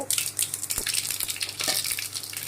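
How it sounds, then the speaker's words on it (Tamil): Mustard seeds spluttering in hot oil in a pan for cabbage pachadi, a loud dense crackle of rapid pops and sizzling, close and continuous throughout. "அதில் கடவு சேர்த்து பொரிய விடுங்க"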